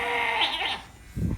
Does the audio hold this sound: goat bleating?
yes